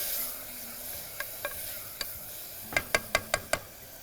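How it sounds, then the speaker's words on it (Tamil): Red matta rice sautéed in a pressure cooker gives a faint steady sizzle, a few sparse scrapes, then a quick run of five sharp ladle knocks and scrapes against the metal. "இந்த மட்டை அரிசியை குக்கரில் போட்டோம், வதக்கிடுவோம்."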